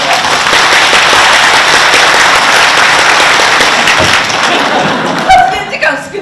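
Sustained audience applause fills an indoor protest rally at the National Diet on women's rights, dense and steady for about five seconds before thinning, with a voice beginning to speak near the end.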